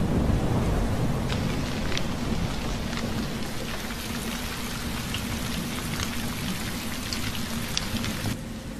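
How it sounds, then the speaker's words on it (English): Heavy rain pours steadily and loudly across a parched landscape as the wet season returns, a dense constant hiss with scattered louder drops and no voices. "The rains finally return, bringing much needed relief to the parched earth."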